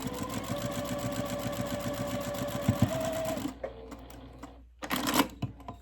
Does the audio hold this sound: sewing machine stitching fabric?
yes